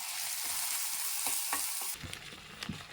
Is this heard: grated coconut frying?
yes